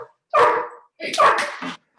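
A pet dog barking indoors during an online planning commission meeting, two loud close barks, the second longer and doubled, separated by silence.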